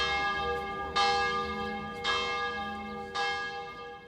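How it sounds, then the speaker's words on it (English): Church bells ring out in a garden in Jerusalem, calling worshipers, with three clear resonant strikes spaced about a second apart and a long humming decay between them, nothing else heard. "bells called out to worshipers to enter the church"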